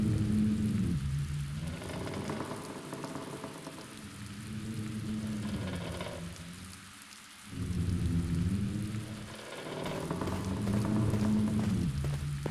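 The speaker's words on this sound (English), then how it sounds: "The hole in the window lets cold wind and rain enter the room." Cold wind and rain pour through a hole in a broken window in the Black Mirror video game, a dense, loud storm wash with slow rumbling gusts that swell and ebb, no voices.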